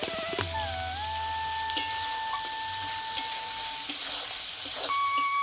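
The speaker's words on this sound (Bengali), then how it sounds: "এবার পেঁয়াজ, রসুন আর টমেটোটাকে ততক্ষণ অবধি ভাজছে যতক্ষণ না টমেটোটা গলতে শুরু করে" A pan sizzles steadily as onion, garlic and tomato fry over a clay stove, with occasional scraping stirs and faint tones in the background.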